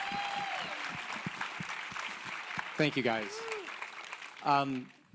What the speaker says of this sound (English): Big round of applause for those two.